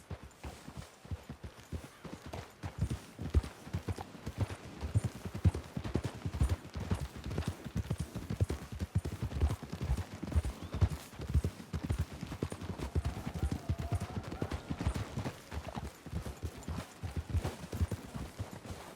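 Horse hooves clip-clopping in Red Dead Redemption 2: a steady, even walking rhythm of hoofbeats, moderately close and continuous, with no talk over them.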